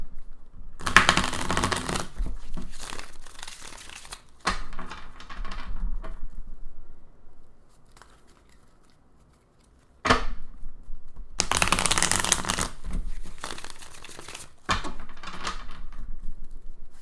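Tarot cards are shuffled by hand in two dense bursts of riffling and flicking, separated by a quieter stretch of light handling and shuffling noises.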